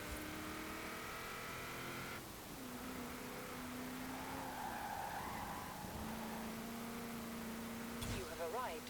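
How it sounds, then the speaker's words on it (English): Double overhead cam V8 of a 2000 Ford SVT Cobra R in Forza Horizon 4, a steady sustained engine drone that shifts pitch a couple of times, with tyre squeal and a brief burst near the end. "I'll let you hear the glorious double overhead cam V8."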